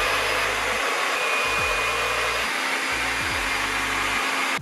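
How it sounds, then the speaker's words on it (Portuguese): A handheld hair dryer blows steadily while drying hair, its motor whine and rushing air cutting out and restarting several times in short bursts, loud and close with no talking. "Vou secar o cabelo"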